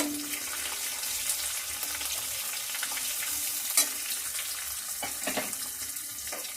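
Chopped onion frying in hot oil for a tempering for gongura fry, a steady close sizzle with a few scraping stirs and some watery splutter, no voices.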